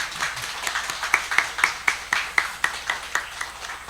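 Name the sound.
church congregation applause for the youth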